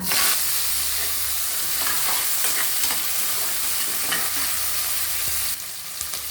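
Steady, loud sizzling of onions frying with cumin seeds in a hot pan, with occasional stirring scrapes; the sizzle drops slightly near the end.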